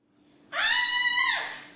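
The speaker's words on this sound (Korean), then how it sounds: "여자 화장실에서 비명이 들립니다." A single high-pitched woman's scream in a women's restroom, sustained for about a second and then trailing off, loud and close against a quiet background.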